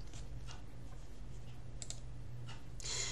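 Faint clicks of typing on a computer keyboard, a few sparse keystrokes over a steady low hum, ending in a slightly louder scratchy burst.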